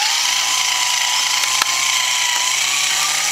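A newly assembled homemade engine on its first test run, still badly out of ignition timing, gives a loud continuous mechanical buzz with a steady pitched drone and one sharp click partway through, with no talk.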